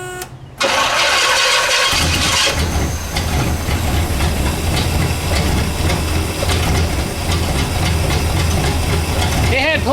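A Pontiac Bonneville engine cranks briefly after fuel is added, fires, and runs loudly and steadily close by, with a rough, hissing idle and mechanical rattle continuing to the end.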